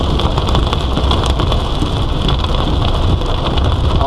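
Heavy monsoon rain pounds a vehicle while driving, a loud dense hiss of drops drumming on the roof and windshield, steady and continuous throughout with no voices.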